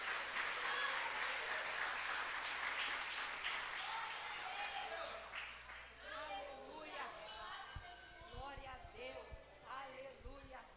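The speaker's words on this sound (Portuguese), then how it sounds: "Você aplauda Jesus nessa noite" A congregation at a Baptist church service applauds together, a faint wash of clapping that fades after a few seconds into soft speech and light clinks.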